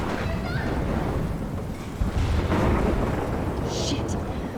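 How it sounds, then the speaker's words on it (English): A thunderstorm in the video game Life Is Strange rumbles as dense, steady storm noise with heavy rain and rolling thunder, swelling slightly midway, loud and continuous throughout. "You see this storm? It's a full tornado."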